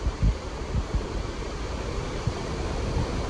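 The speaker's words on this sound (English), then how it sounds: "it is windy today" Wind gusts buffet the microphone in low rumbling bursts over a steady rushing background along the Rifle River, with no voices.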